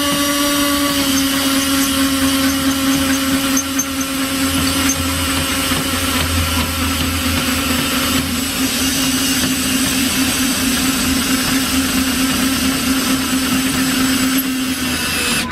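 Continuous loud whine of a motor running at steady speed for several seconds, high-pitched and droning with a gritty buzz.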